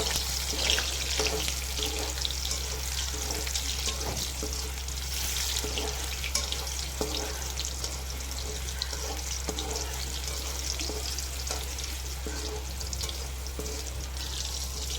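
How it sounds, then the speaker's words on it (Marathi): Steady, loud sizzling of tomatoes frying in a pan, a dense crackling hiss that continues without pause, with a low hum underneath. "आता आपण त्यात टाकूयात टोमॅटो। टोमॅटो छानसा भाजून घेऊयात।"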